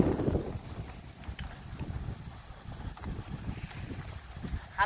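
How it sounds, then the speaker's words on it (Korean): Strong seaside wind buffets the microphone with a steady low roar and rumbling gusts, close and continuous, at a windswept coastal fishing spot in Yeosu. "바람 오지네, 진짜."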